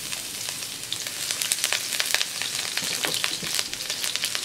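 Garlic fries in oil in a pan with a steady, bright sizzle and dense crackling pops, close and continuous, with no voices.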